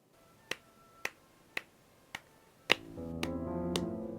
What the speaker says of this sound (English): I'm going to start clapping.